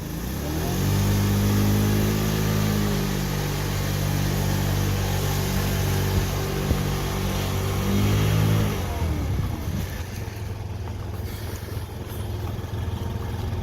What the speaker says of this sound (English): you can hear the engine sounds nice and clean